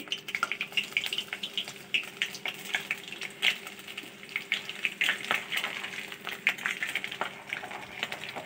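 Crushed garlic fries in hot oil in a pan, a moderate crackling sizzle with rapid little pops running steadily throughout.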